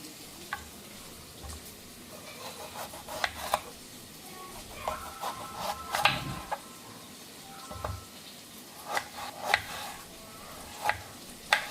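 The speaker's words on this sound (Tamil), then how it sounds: "நல்லா வதங்கட்டும்" Green chillies and vegetables sautéing in a pan for a dried fish and field bean curry: a continuous soft sizzle with repeated scraping stirs, plus faint chicken clucks in the background.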